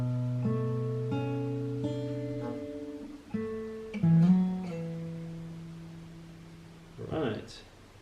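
Acoustic-style guitar from a song lesson, the final chord plucked slowly string by string and left ringing, then struck again and allowed to fade, up close, with a brief voice near the end.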